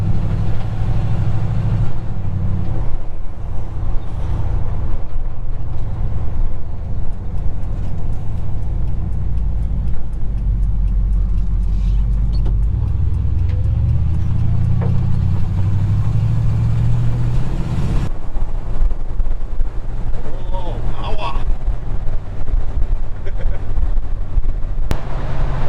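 An old Ford F350 truck, unfinished after sitting for 20 years, drives along with a steady, loud, low engine rumble. The rumble shifts and swells midway, and the ride sounds rough, as if the front tires are a little wobbly.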